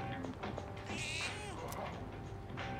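A cat meows once, faint and brief, in the video game Persona 3 Reload, under a quiet creaky background.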